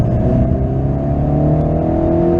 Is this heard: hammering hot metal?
no